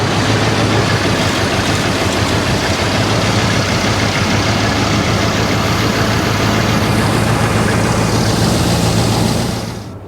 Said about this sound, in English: So you can hear it runs, it idles.